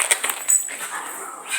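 Snickers the dog plays with a ball, giving a few short high yips and whimpery sounds up close, with excited movement and light voices mixed in.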